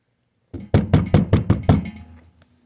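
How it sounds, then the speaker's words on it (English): Knocking on a door: six firm, evenly spaced knocks, close and resonant, ringing out briefly after the last one. "There was a knock on the door."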